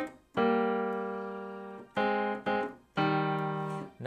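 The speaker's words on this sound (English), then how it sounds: "Now we're playing two notes on the right hand and we are doing them on the downbeat." Keyboard playing sustained two-note right-hand chords on the downbeat, part of a piano arrangement: a long held chord, two short stabs, then another held chord, close and clear with no voice.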